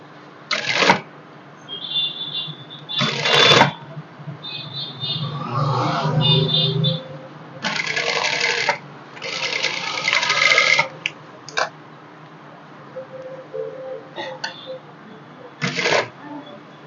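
A sewing machine stitches a dart on a blouse in several short bursts of rapid mechanical whirring, close by, separated by pauses with a voice talking and faint handling noises between runs.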